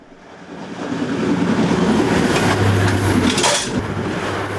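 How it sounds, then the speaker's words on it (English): A train from Shrewsbury nears on a rural line by an old signal box, a rumble swelling to a loud rushing roar with wheel clatter and a brief horn-like tone as it passes close by. "The train approaching from Shrewsbury is about to pass a listed building."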